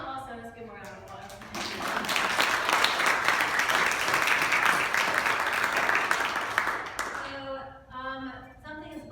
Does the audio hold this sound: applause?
yes